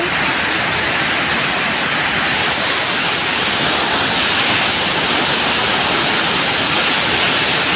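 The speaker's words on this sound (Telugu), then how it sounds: "మెయిన్ వాటర్ ఫాల్స్ అండి." Kothapalli waterfall near Chintapalli, its main falls carrying heavy flow, roars as a loud, dense, unbroken rush of falling water from close range, with no voices heard.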